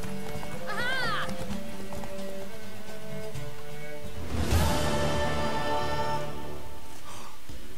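Horse neighs and hoofbeats from The Witcher 3, a short whinny early on, then a loud burst of movement and hooves midway over a steady game music background.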